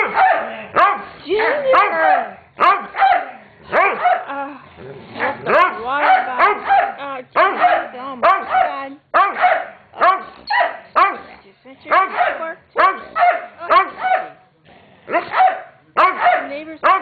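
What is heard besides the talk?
dogs barking and fighting indoors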